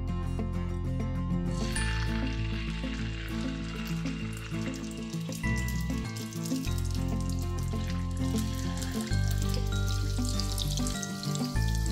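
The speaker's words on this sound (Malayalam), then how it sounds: "എണ്ണ ചൂടായി, ഇനി മാവ് ഒഴിക്കാം." Unniyappam batter going into hot oil in a pan, a steady loud sizzle and bubbling frying sound that continues throughout without talk.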